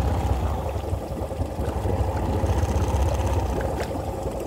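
Honda engine idling steadily while running submerged under water, a constant low rumble with bubbling churn and no speech.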